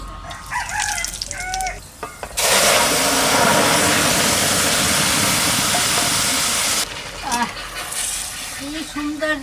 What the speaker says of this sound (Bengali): কালো জিরে ফোড়ন দেবো।